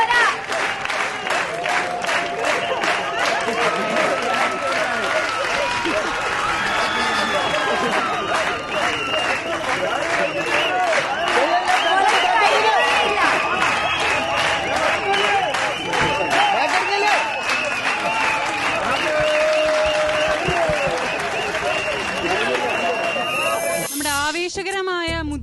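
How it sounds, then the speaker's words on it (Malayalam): An audience at a senior adults' chilli eating contest, part of an Onam special show, claps in a loud sustained burst of applause that runs on for many seconds, with voices mixed in before it fades out near the end. "എല്ലാരും ഒന്ന് കൈയടിച്ചേ, നന്നായിട്ട് കൈയടിച്ചേ."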